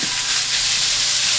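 Pork belly sizzles in a hot oiled pan with a steady, bright crackling hiss that runs loud and close throughout, with no voices over it.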